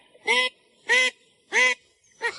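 Call ducks honking loudly in four evenly spaced, nasal harsh calls, close and clear against a quiet background.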